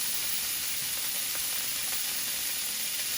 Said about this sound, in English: Get a little more butter. Alright. Turn the heat low.